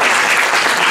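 A brief burst of audience applause, dense clapping from many hands at a steady loudness.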